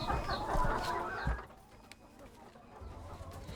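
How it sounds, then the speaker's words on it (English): Chickens cluck and chatter in a small poultry farm compound near the coop, a busy flock sound that is fairly close at first, then drops to quieter background clucks and ambient noise. "The clacking of birds welcomes us to the compound as we make our way to the chicken coop."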